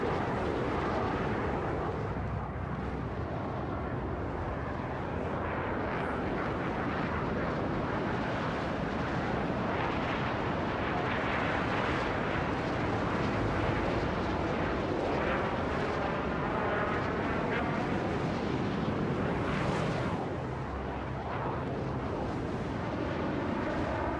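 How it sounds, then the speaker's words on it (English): The afterburners of an Aegis Gladius fighter ship in the video game Star Citizen give a loud, sustained, jet-like roar that rumbles continuously and swells slightly near the end. "Afterburners. It sounds amazing. It sounds like a fighter jet would."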